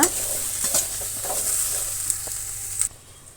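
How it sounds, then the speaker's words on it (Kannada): Okra dry-frying in a pan with no oil: a bright close sizzle with repeated scraping stirs and light taps for about three seconds, then the sound abruptly drops away, no one speaking. "ಈಗ ಆಯಿಲ್ ಸೇರಿಸಿಲ್ಲ ಬರೀ ಬೆಂಡೆಕಾಯಿನ ನಾನು ಫ್ರೈ ಮಾಡ್ತಾಯಿದ್ದೀನಿ"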